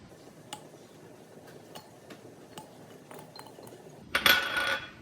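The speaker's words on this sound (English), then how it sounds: "to each jar, we're gonna add 2, 4, 5 cloves of garlic deliciousness" Garlic cloves clinking one after another into glass jars while pickling eggs: a few light, faint ticks scattered through a quiet stretch, ending with a brighter, louder rattle near the close.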